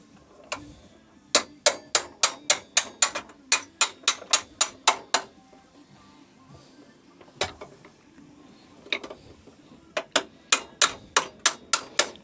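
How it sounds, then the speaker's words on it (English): Hammer tapping a stabiliser into place on an abandoned mini motorbike being rebuilt, a run of sharp, evenly spaced metallic taps in quick clusters with short pauses between, close and clear. "hammer for a gentle love tap."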